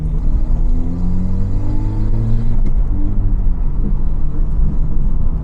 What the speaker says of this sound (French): Ça pétarade comme il faut. Bon, cette ligne fait un peu de bruit.